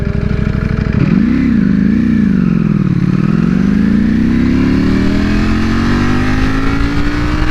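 A 2020 Ducati Panigale V4 R motorcycle engine revs loudly close by: one sharp throttle blip, a wavering dip, then a long steady climb in pitch as it accelerates, with no talk.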